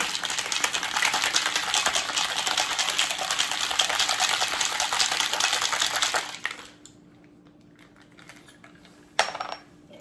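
Rapid, continuous rattling of ice inside a drink shaker for several seconds, loud and steady, then stopping abruptly, followed by a brief clink.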